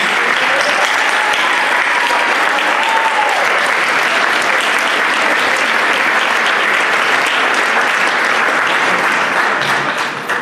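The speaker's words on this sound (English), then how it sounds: "Would you please join me in a round of applause for your public servants?" Loud, sustained applause from a large crowd at a Filipino American History Month celebration in Vallejo, California, steady and dense clapping that fills the whole stretch without a break.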